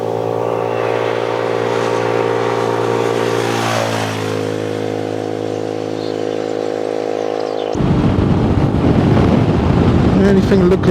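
An MGB ATX-T 125 motorcycle cruises at 40 mph and around 5,750 rpm, a steady engine drone with a pitch that drifts and dips. Heavy wind rush takes over partway through, loud and close throughout.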